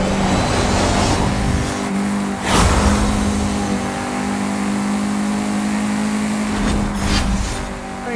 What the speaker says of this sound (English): The Mercedes AMG GT4. This is a great car.